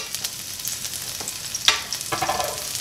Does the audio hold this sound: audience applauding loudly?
no